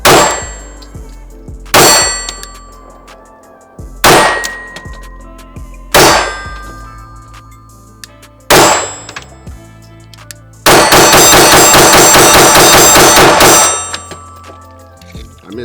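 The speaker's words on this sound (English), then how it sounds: "We'll shoot about 7 rounds slow and then we'll mag done the rest." Pistol shots from a Glock 45 fitted with a Shootout Systems XR920 ring out as five slow, evenly spaced loud cracks with ringing tails, then a fast burst of rapid fire emptying the magazine.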